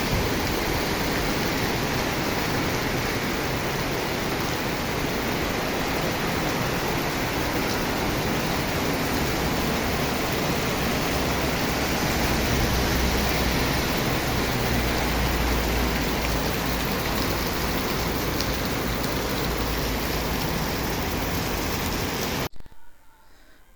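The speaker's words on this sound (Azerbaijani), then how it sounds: "Yağış yağır bərkdən." Heavy rain pours down steadily after a hailstorm, a dense, continuous roar of water on surfaces that stays loud throughout with no voices, then cuts off abruptly at the end.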